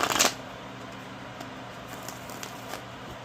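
Tarot cards shuffled in a quick riffle at the very start, then soft faint handling rustles and taps in a quiet room, no talking.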